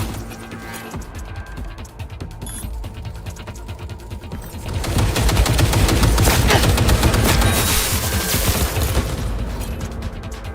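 Heavy gunfire in the Cyberpunk 2077 video game, dense bursts of automatic fire and booming impacts that swell louder midway and stay intense to the end.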